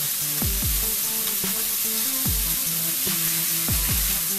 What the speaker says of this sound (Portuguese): vamos fritar esse bacon durante um período